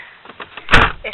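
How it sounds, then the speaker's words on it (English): A leg knocks against a door in a hot room, giving a single dull thump after a few faint taps, close and alone. "My leg keeps on making noises on my door."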